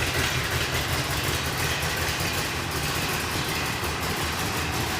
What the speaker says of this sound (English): Idling, nice lopey idle.